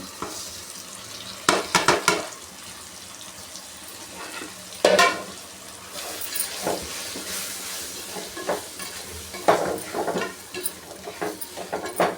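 Roasted semolina going into a pressure cooker pot for upma, with bursts of scraping and rustling against the metal between quieter sizzling stretches, heard nearby and without talk.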